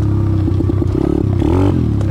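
A DB Tao 140cc pit bike engine ridden on the road, loud and close with a throbbing, rising and falling rev and some rattling clatter, no voices.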